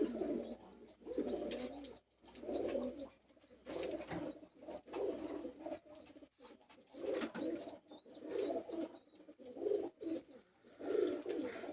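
Teddy Kamagar Golden pigeons coo steadily in soft, repeated rolling calls, close by, with faint background hum and occasional chirps.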